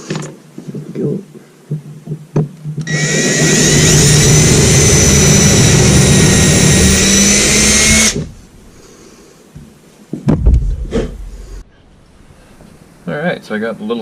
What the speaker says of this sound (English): I'm going to go ahead and drill and get the little pivot on it